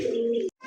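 Satin and Bombay pigeons at a wholesale pigeon dealer give one low rolling coo, close and soft, ending abruptly before a faint higher sound starts.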